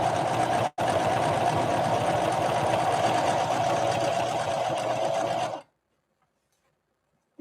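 A Singer 5808C sewing machine stitches a 3-point zigzag in a steady, fast mechanical whir with a hum, running close and continuous for about five seconds with one momentary break before stopping abruptly into silence.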